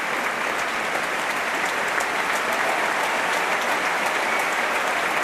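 Concert audience applauding and cheering at the BBC Proms for the BBC Symphony Chorus after Elgar's The Music Makers, a dense, steady roar of clapping that holds evenly throughout with no talk over it.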